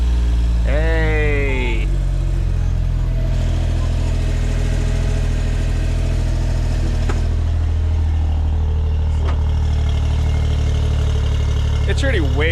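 A Suzuki Cara Autozam AZ-1 with a newly installed Keisport engine computer cold-starts, then settles into a steady, loud low idle, with a brief exclamation in the background.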